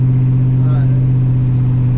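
A Chevrolet C10 truck's engine drones loud and steady from inside the cab while driving, a deep continuous rumble with a slight rise in revs.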